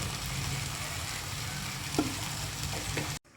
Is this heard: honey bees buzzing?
no